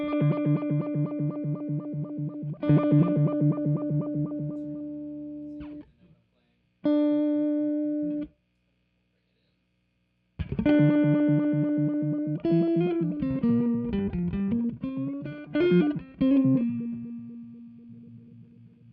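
A Time Dilation V5 pedal throws a pulsing, modulated delay shifted up and down by an exact octave onto sustained guitar notes, ringing out loud in two bursts with a brief silence, then returning with a string of single notes and wavering repeats.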